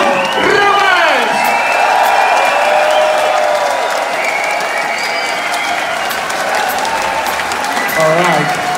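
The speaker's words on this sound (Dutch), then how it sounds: "hij verdient een ovationeel applaus" A live audience applauds and cheers for a pianist at a music show, a dense, sustained roar of clapping with whoops and shouts running throughout, loud and close, with voices calling out over it.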